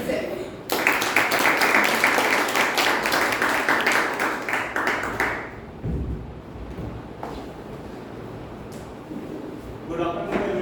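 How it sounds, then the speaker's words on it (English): Loud, dense applause from a Toastmasters club meeting audience welcoming the Toastmaster, sustained for about five seconds before fading into quieter room noise and scattered movement. "So, with a huge round of applause,"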